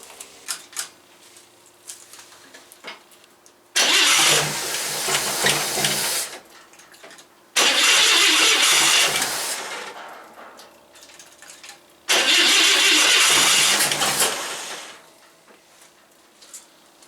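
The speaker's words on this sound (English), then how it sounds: "I can get it started, but it keeps dying." A carbureted race car or hot rod engine cranks and catches three times, each time running loudly for a few seconds before dying back to quiet, with short gaps between attempts and no talk.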